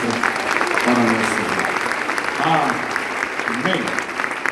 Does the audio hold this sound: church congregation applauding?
yes